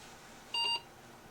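A machine brought into an engineering workshop gives a single short electronic beep, a clean tone lasting about a quarter second against quiet background noise.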